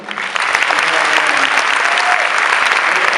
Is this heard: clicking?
no